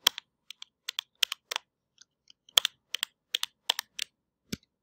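Typing on a computer keyboard while writing code: bursts of crisp, close keystrokes in an irregular rhythm, with short pauses between clusters, set against near silence.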